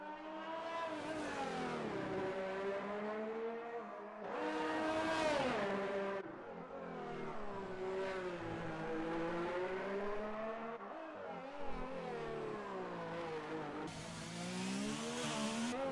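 Formula 1 race cars in an F1 video game at Monaco's street circuit scream past with high, rising and falling engine whine, shifting pitch as they accelerate and brake through corners, steady and loud with no talking.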